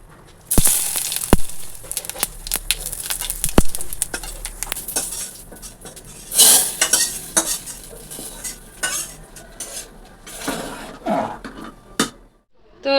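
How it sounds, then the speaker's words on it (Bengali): Whole cumin, bay leaves and dried red chili tempering cooked dal in a pan on a gas stove: sharp metal clinks and stirring scrapes over a soft sizzle, close and fairly loud, with no talking. "ডাল হয়ে গেছে এই যে ফোড়ন দেবো গোটা জিরে তেজপাতা আর হচ্ছে শুকনো লঙ্কা"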